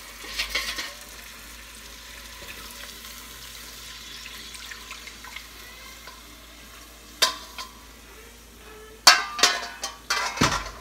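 Sauce poured into a pot roast with browned beef, giving a soft steady sizzle and stirring, then a few louder scraping clinks near the end, with no talking.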